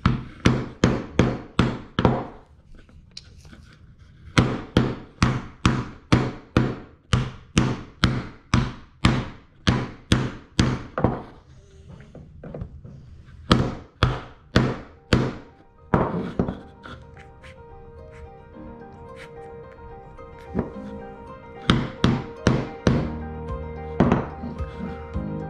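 A hammer strikes again and again while a child's Lowe's Build and Grow toy castle is put together. The blows come as sharp, close, wooden-sounding knocks in rapid bursts with short pauses between them.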